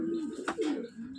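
A Madrasi pigeon held in the hand, restless and aggressive, gives a soft close coo with a brief rustle of feathers in the middle, faint and alone.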